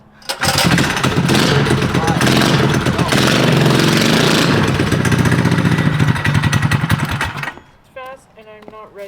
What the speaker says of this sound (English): The motor ran first try.